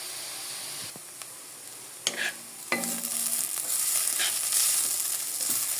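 Grated raw papaya fries on medium heat in a pan for halwa, a steady close sizzle that brightens after a couple of sharp stirring clinks and keeps hissing to the end, with no talking.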